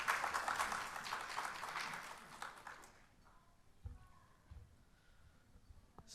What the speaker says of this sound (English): Let's give him a nice round of applause, please.